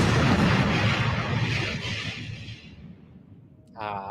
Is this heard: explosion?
yes